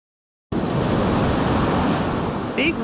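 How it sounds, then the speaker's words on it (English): Big waves breaking on Lake Superior, a loud continuous roar of surf mixed with wind buffeting the microphone, starting abruptly after a moment of silence and holding steady throughout. "Big waves on the biggest Great Lake."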